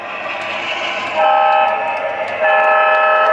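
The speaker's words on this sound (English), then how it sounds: "here comes our locomotive" A Lionel O scale model locomotive runs past close by with a steady electric motor whine and rail hum, its tone stepping up twice as it passes, with no voices.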